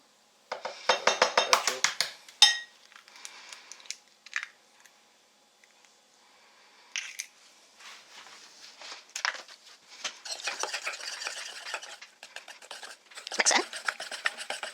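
An egg is worked into Scotch pancake batter in a home kitchen, with bursts of scraping and clinking from a utensil against the bowl, broken by pauses and a few quiet words.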